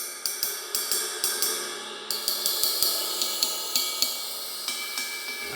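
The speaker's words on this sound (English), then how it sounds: "pretty much the sound from the cymbal starts at the bell and resonates out." A ride cymbal's bell is struck repeatedly in a steady rhythm, about twenty bright, ringing pings with shimmering sustain overlapping each strike, close and clear with no talking.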